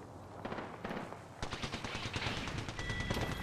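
Rapid bursts of automatic gunfire in Apex Legends ranked play rattle close and loud, a dense stream of shots running almost the whole time, with a brief lull before the firing picks up again.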